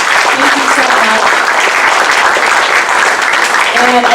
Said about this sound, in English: So if we could just give them a round of applause for covering this out.